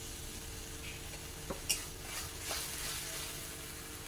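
Chopped tomato hits hot oil in a pan, giving a steady low sizzle with a few soft clinks and stirring scrapes partway through.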